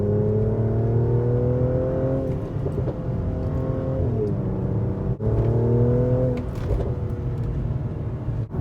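Engine of a 2016 Mercedes C450 AMG downshifting, loud close revs that fall and then sharply blip up twice, with short crackles between shifts and no talk.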